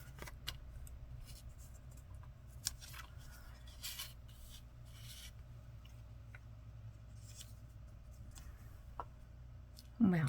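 Scissors trimming frayed ends of ribbon or thread on desk ephemera, faint scattered snips over a soft steady background hiss.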